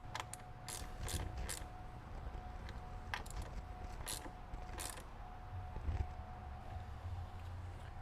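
A ratchet wrench snugs down R4T Group 31 battery terminals on their cables, giving short bursts of quick ratcheting clicks at intervals over a steady low background hum.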